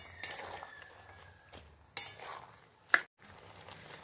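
Drumstick-flower curry with lentil nuggets being stirred in a pot, a few sharp metallic scrapes and clinks of a spoon against the pot spaced across a quiet background, with a faint low hum underneath.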